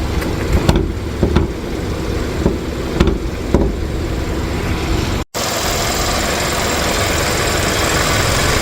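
The 2.4 liter four-cylinder engine of a 2015 Kia Optima EX runs at a steady idle, a continuous loud drone with a few faint ticks and clunks early on and a brief dropout midway.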